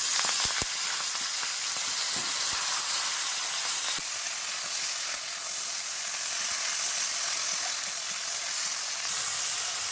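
Chopped Malabar spinach tipped into a hot pan with green chilli, salt and turmeric, a loud broad hiss and sizzle that starts with a few clattering bumps and then settles into a steady steaming rush.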